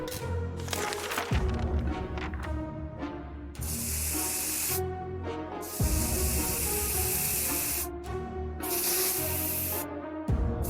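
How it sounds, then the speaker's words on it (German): A spray can hisses in the 60 Seconds video game, giving repeated loud bursts of spraying over about ten seconds, mixed with background game music. "Jetzt haben wir im Hintergrund das Geräusch gehört, die Sprühdose, die sprüht"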